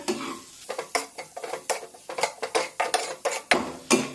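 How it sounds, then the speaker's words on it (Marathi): Spices stirred in a pan over low heat for a potato curry: repeated quick scraping taps of a spoon against the pan with a faint sizzle, close and steady, no voices. "आता हे सर्व मसाले मंदाच्यावर एक मिनिटभर परतून घेऊया"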